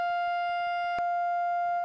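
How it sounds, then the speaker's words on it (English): A distorted sine-wave test tone from a faulty device, a steady pure pitch layered with harsh overtones, interrupted by faint ticking clicks and one sharp crackle midway, heard alone. "That's supposed to be a sine wave, and it really isn't."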